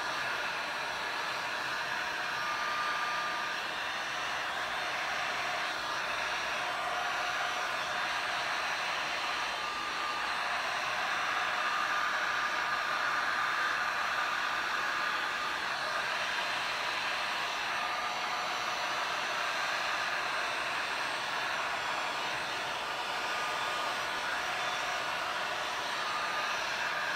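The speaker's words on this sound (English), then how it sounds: "So I'm gonna get my heat gun, take off my first layer of gloves, get my heat gun." Heat gun blowing hot air across a resin abstract painting, a steady, fairly loud broadband rush that holds evenly throughout with no talking.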